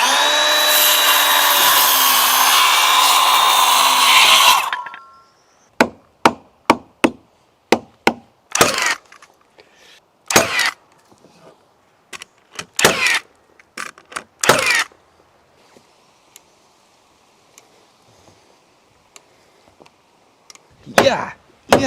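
Milwaukee framing nailer firing into wood on a cabin floor build, a series of sharp loud bangs with irregular spacing after a few seconds of loud saw or machine noise at the start.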